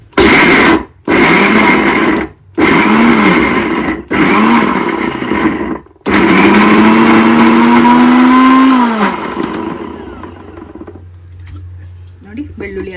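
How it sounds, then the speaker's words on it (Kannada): A kitchen mixer grinder blends green chillies and garlic in loud pulsed bursts, several short whirring runs separated by brief stops, then a longer run that winds down to quiet. "ನೋಡಿ ಇವಾಗ ಹಂಗೆ ಮಿಕ್ಸಿ ಮಾಡ್ತೀನಿ"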